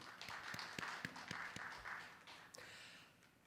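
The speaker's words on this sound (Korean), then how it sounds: "다시 한번 총장님께 감사의 박수를 드리겠습니다" Scattered, faint hand claps and taps from a small audience at a university year-end closing ceremony, honouring the university president; irregular and thin, tapering off after a few seconds.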